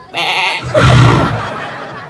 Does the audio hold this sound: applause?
no